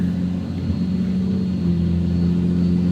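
A truck with a built 48RE automatic transmission accelerates, its engine droning steadily up through the gears with a subtle change in pitch partway through as it shifts, heard from inside the cab.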